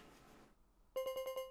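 A phone in the video game Deadly Premonition 2 starts ringing with a quick series of bright electronic pulses after a moment of near silence, fairly clear against low background hiss.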